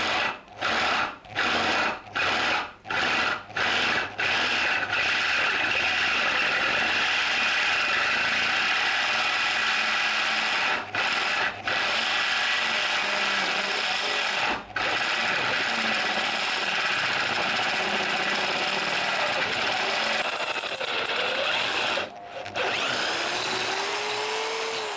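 A Hasston ART.3075 impact drill fitted with a 13 mm bit runs in a loud, steady whine while drilling, cut by several brief stops and restarts near the start and later pauses.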